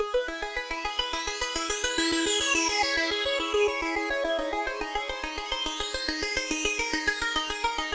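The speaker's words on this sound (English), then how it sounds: "Check out the difference in sound as I change the decay." Synthesizer preset sounding a steady run of bright, resonant plucked notes in a rapid repeating rhythm, with the tone opening and closing as the envelope decay is swept, loud and alone with no voices.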